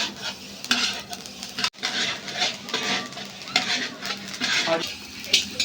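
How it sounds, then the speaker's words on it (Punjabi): Fennel and carom seeds dry-roasting in a kadhai over a stove give bursts of rattling, scraping stirring against the pan, rising and falling in uneven waves over a light sizzle. "ਇਹ ਸਾਡੀ ਸੌਂਫ ਅਤੇ ਜਵੈਣ ਭੁੱਜ ਰਹੀ ਹੈ ਜੀ"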